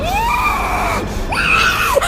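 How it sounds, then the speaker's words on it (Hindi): A woman screams as a horror audio story sound effect: two loud, close, wavering shrieks, the first rising and falling, the second sharper and higher, over a low background rumble. "सोनम चीखते हुए उठी"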